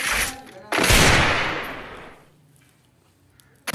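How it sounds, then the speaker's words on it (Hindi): Video game gunfire gives a sudden loud burst of rapid shots that rings out and fades over about two seconds, followed by near quiet and two short taps at the end. "बहुत शॉट दिया जीजी गुरु ने"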